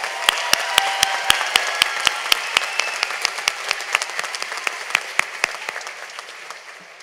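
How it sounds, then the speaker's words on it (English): A crowd at a Delaware Tech graduation ceremony in Dover applauds, a full, sustained round of clapping with sharp individual claps standing out in a steady rhythm, slowly tapering off. "Let's give them all a great round of applause."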